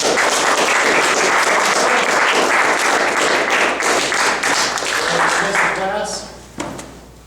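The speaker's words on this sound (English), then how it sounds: "can MPD March come over here and give a round of applause" A sustained round of applause at a military science class gathering on a field, dense and loud throughout, tapering off near the end with a few voices audible underneath.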